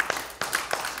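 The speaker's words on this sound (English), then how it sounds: "Let's give him a hand clap." A church congregation claps hands during a worship service, a few broad claps spaced across a short moment, moderately loud in a reverberant room.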